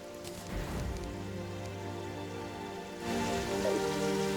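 Rain falls in the video game Terraria as a steady patter over low in-game music, with the rain growing noticeably louder and fuller partway through.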